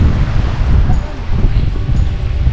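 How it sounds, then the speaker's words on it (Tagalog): Strong wind at a lakeshore roars steadily against the microphone, a continuous low rumble with gusty buffeting throughout. "kusog mahangin"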